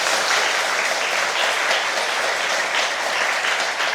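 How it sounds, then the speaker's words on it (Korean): A church congregation at a summer retreat applauds in thanks, dense sustained clapping from many hands that fills the room evenly for several seconds. "우리 감사의 박수를 한 번 더 올려드리겠습니다."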